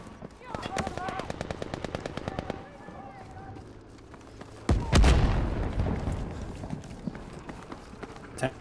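Video game gunfire aimed at the player, with a tank nearby: a rapid machine-gun burst of close, sharp shots, then a heavy blast and scattered rattling afterwards.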